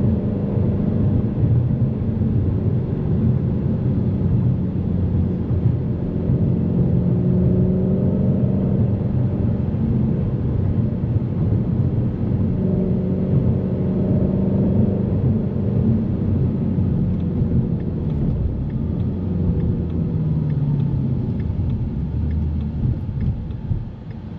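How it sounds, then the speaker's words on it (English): Ford Shelby GT350 Track Pack Mustang driven on the road, a steady low engine rumble heard from inside the cabin, rising and easing gently with throttle, no talking. "That is what it's like to drive the Shelby GT350"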